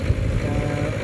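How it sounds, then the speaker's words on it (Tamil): A fiber boat engine runs just after starting, with a close, loud, rough chugging clatter that continues evenly through a short moment, with no voices. "Engine start ஆகிருக்கிறது."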